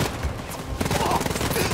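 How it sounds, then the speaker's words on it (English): Gunfire from shooting Nazis in the video game Wolfenstein: Youngblood: after a brief lull, a rapid burst of automatic weapon fire runs loud and continuous to the end. "Let's shoot the Nazi."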